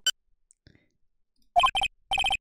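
Telephone ringtone from the Phoenix Wright: Ace Attorney game, a short electronic trilling ring in two bursts of rapid repeated tones after a brief click and near silence.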